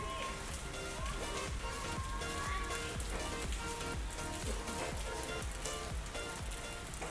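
Rain falling at a beach in Puerto Vallarta, Mexico, a dense steady hiss of drops pattering nearby with continuous crackling texture throughout, without voices.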